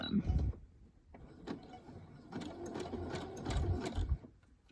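A sewing machine stitches fabric along a seam in a few close bursts of rapid mechanical whirring, separated by short pauses.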